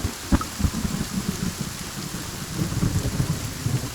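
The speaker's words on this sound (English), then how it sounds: "Crack of thunder." Thunder crack sample fired from a Roland SP-404 sampler over a rain bed, with rumbling low booms and sharp crackles rolling through the whole stretch, loud and close, with no voices.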